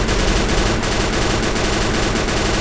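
Automatic gunfire in the mobile game Free Fire rattles in a dense, loud stream of rapid shots, with no pause across the whole stretch.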